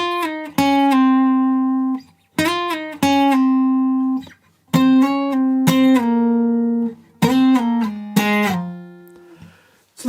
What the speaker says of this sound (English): it doesn't quite sound perfect on the acoustic guitar